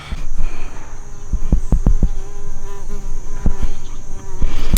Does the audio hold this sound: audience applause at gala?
no